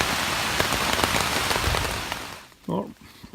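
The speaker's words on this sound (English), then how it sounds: "nothing more peaceful than full summer rainstorm while you're laying in a tent" Heavy summer rain drums steadily on a camping tent in the woods, a dense close patter that fades near the end, broken by a brief low voice.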